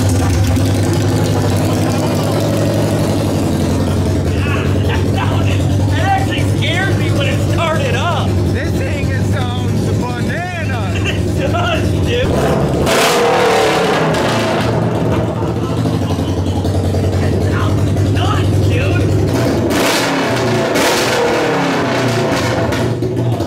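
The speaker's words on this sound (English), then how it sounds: "You gotta start this up with no exhaust." A Polaris RS1 off-road vehicle's engine rumbles loudly and continuously with no exhaust fitted, idling roughly with bursts of revving and a harsh, unmuffled roar.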